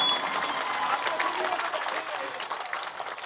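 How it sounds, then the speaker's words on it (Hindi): Applause from an audience at a Hindu gathering on Mahashivratri, broad and steady for a few seconds at moderate loudness, with a voice faintly mixed in. "एक बार ताली चोटपुर वालों अपने लिए बजाओ,"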